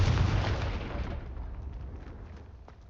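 A loud fiery blast from the Confringo spell in Hogwarts Legacy, a single heavy boom at the start whose rumble slowly fades over the following seconds with faint crackles, no talking.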